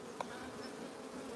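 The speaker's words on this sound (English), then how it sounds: "Nice quiet bees." Calm honey bees in a nuc box give off a steady, even hum at close range, with one brief tick near the start and no voices.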